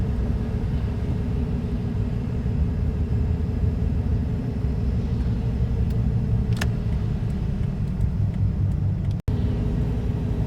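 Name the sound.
car driving on a winter road in Michigan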